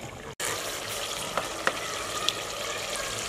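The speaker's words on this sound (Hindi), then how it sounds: "इसे मिसाले और ऐल में अच्छे तरीके से भून लेंगे।" Mutton frying in oil with spices in a pan, a continuous close sizzle broken by a few faint clinks of stirring, with no talking.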